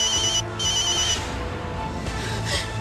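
A phone rings with a bright electronic tone in two short bursts, broken by a gap, then fainter chirps return near the end over a low background hum.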